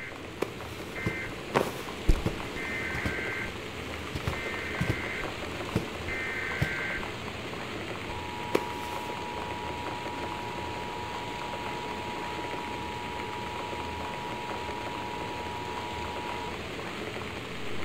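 Steady rain and wind from the video game Gone Home, a continuous broadband patter with a few faint sharp drips, brief electronic beeps early on and a long thin tone partway through.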